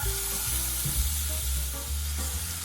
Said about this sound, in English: Add the chopped onion.